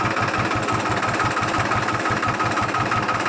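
An overheated Mahindra 265 tractor engine idles after its coolant water ran out, giving a loud, steady, close-up diesel chug with an even, rapid low knocking rhythm and no talk.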